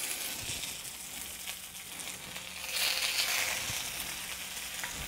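Pieces of turnip cake set into a very hot, lightly smoking pan hiss and crackle in a steady, fairly quiet sizzle, which rises briefly partway through, with faint clicks and no talking.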